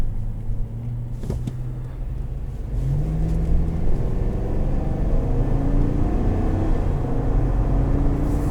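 A 2021 GMC Yukon Denali with its 6.2-liter engine accelerating through a 10-speed automatic, a deep, steady rumble that builds and gradually rises in pitch inside the cabin, loud and continuous.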